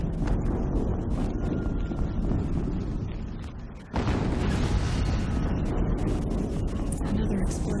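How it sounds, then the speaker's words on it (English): A video game explosion in Horizon Zero Dawn erupts midway as a loud, broad roaring burst, after a dip in the continuous rumbling, windy game noise that fills the whole stretch. "Another explosion."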